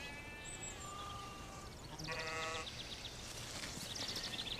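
Sheep bleat in a rural setting, several harmonic calls from more than one animal overlapping against a steady outdoor background, moderately near.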